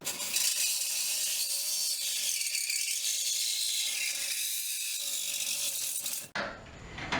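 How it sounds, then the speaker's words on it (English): A saw with a fine 24-teeth-per-inch metal-cutting blade cuts through an aluminum attic ladder rail, a loud continuous rasping for several seconds that stops abruptly at the end of the cut. "So cutting aluminum, the metal cutting blades work real well."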